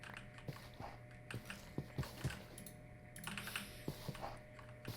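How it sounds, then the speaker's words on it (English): Clicks from a loud computer keyboard during a modded Minecraft session, uneven taps in short clusters over a low background hum, fairly quiet and close. "Sorry about the keyboard clicking"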